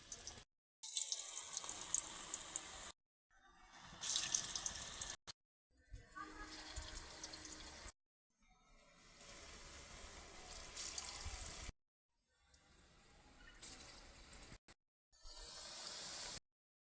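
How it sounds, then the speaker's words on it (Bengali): Small cabbage kofta balls frying in hot oil, a crackling, hissing sizzle that comes in separate bursts with short silent gaps between them. "ছোট ছোট বল বানিয়ে ভেজে নেব"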